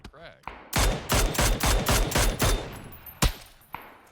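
Rapid automatic gunfire rattles in PUBG, loud bursts of fast shots running for about two seconds, then a few isolated single cracks spaced apart.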